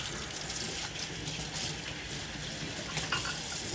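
Hot water runs from a kitchen tap while hands are washed beneath it, a steady close rushing splash throughout with small shifts as the hands move in the stream.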